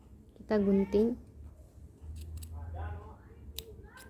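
Scissors snip through fabric beside a sewn neckline, a soft crunching run of cuts following a short spoken phrase, with a few faint clicks afterward in a quiet room.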